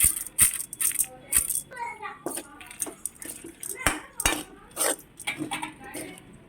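Cooked banana flower thoran mixed with fried urad dal is spooned from the pan into another bowl, giving a run of close metal-on-dish clinks and scrapes with brief bits of voice between them.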